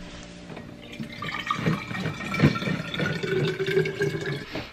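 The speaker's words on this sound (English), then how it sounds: "I'm just going to fill up my hydro flask" Water runs steadily into a Hydro Flask bottle, splashing and gurgling with a rising pitch as it fills, close by.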